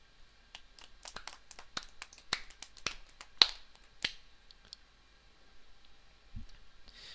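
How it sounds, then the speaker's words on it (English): Scattered claps from only a few people in a small room in the Steins;Gate visual novel, sharp isolated hand claps with uneven gaps, sparse and fairly close, fading out, with no talk. "Greeted by the clapping of only a few people"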